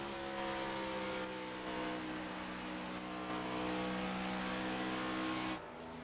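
A NASCAR Next Gen race car in a racing video game drones with a steady, loud engine whine, its pitch shifting slightly as it downshifts, before the tone abruptly cuts to a lower note near the end.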